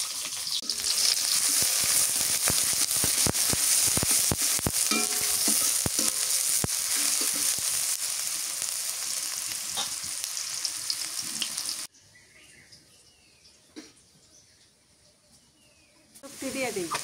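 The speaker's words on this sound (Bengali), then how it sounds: "পেঁয়াজ কুচি দিয়ে দিলাম।" Chopped onion dropped into hot mustard oil, a loud, dense sizzle with crackling pops that runs steadily, then cuts to near quiet before frying noise returns at the end.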